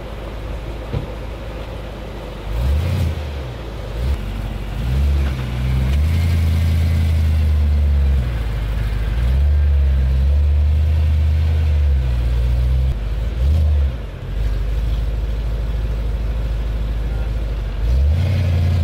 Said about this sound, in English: I'm gonna move the car right here.